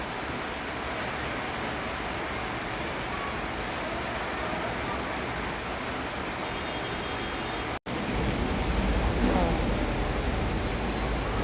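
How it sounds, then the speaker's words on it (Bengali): Heavy rain pouring in Uttara beside a road, a dense unbroken wash of noise that cuts out for an instant and then returns even fuller. "আমাদের উত্তরাতে অনেক বৃষ্টি হচ্ছে"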